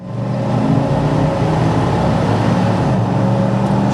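A 1998 Chevrolet K1500 4x4 pickup engine accelerates on the road, a loud close drone that builds in the first half second, then holds steady with a slight dip around a gear shift.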